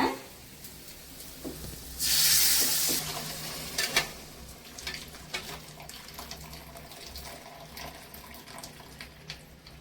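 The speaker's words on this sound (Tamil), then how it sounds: "இந்த தண்ணியே ஊற்றிக்கலாம்." Water poured into a pot of cooked lentils for drumstick-leaf sambar, a brief loud splashing pour followed by quieter stirring and clinks of a utensil against the pot.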